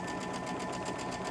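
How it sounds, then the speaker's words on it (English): A sewing machine with a size 12 needle stitches a quarter-inch seam on a fabric quilt block, running a continuous, even mechanical whir with rapid rhythmic ticking, quiet and steady with no speech. "I went ahead and I used a 12-inch needle on this sewing machine"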